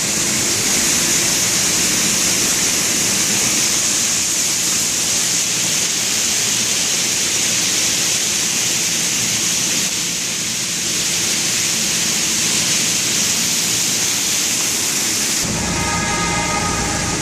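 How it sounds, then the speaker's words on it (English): Water pours down like heavy rain inside a subway station, a loud continuous hissing roar that holds steady before a brief change near the end. "it's even raining in the elevator"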